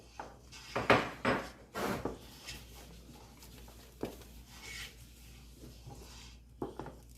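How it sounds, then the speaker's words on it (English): A spoon stirring thick ogbono soup in a pot on a home stove, giving intermittent scraping and rubbing strokes with clustered bursts near the start, then quieter scrapes, close and moderately loud. "Yeah, keep stirring."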